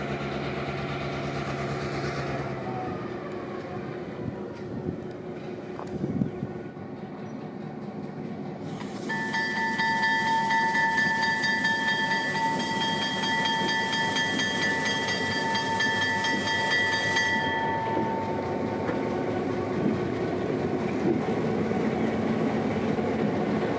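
Diesel locomotive 8330 backs down the track at the Florida Railroad Museum, a steady engine rumble with hissing and a prolonged horn blast in the middle, no talk.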